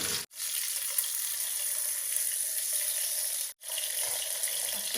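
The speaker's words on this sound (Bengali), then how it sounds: "তো ফ্রাই হোক এগুলো আস্তে" Pieces of hilsa fish tail fry in a pan with a steady, dense sizzle that runs almost unbroken, cutting out briefly twice before resuming at the same level.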